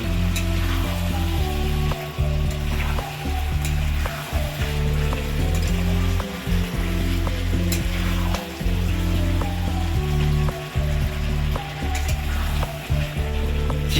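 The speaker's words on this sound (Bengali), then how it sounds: "চিকেন কষা রান্না হচ্ছে নতুন স্টাইলে।" Chicken kosha frying in a pan, loud continuous sizzling with stirring scrapes and brief dips as it is turned, with no talking.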